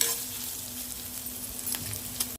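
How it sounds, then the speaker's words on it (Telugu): Onions and ridge gourd peel frying in a pan, a steady close sizzle with faint stirring scrapes over the oil's hiss. "మనం కట్ చేసి పెట్టుకున్న బీరకాయ తొక్కును కూడా వేసుకొని బాగా వేయించుకోవాలి"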